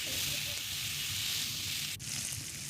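Eggplant and potato fry together in a pan with a constant close hiss and sizzle, broken by one sharp click or tap near the end.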